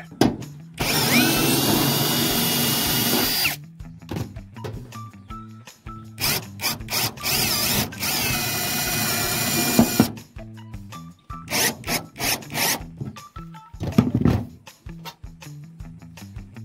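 A power drill drives screws into a solar street light mount in repeated bursts of whirring, some long and some short, with pauses and handling noises between them.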